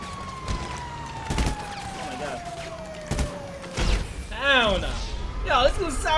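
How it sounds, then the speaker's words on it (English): A police siren in the GTA V Online video game sweeps down through a wavering wail, mixed with game noise and gunfire-like thumps and played under ongoing talk. "this little siren just came out of nowhere again"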